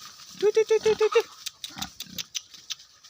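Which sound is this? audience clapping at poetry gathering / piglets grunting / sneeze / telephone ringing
piglets grunting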